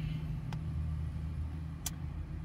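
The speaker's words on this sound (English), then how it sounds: "the cars, I'm sure they are also making their own noise." Cars pass outside, a low steady road rumble with engine drone heard from indoors at a distance, faint and continuous, with a couple of brief sharp clicks.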